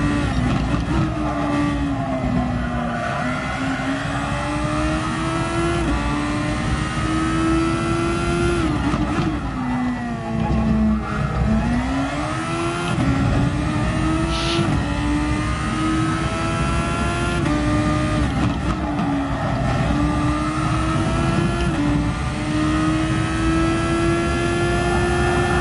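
A race car in a racing video game held flat out through a series of corners, its engine droning loudly and continuously with pitch swinging up and down as it shifts and carries speed through the turns.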